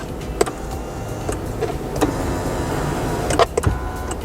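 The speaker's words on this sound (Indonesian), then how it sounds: "Sementara setir ini juga menarik. Jadi dia bisa tilt dan teleskopik, tapi pengaturannya elektronik." The electrically adjusted tilt and telescoping steering wheel of a Lexus UX300e whirs with a steady low motor hum inside the cabin, broken by several small clicks and knocks, with no talking.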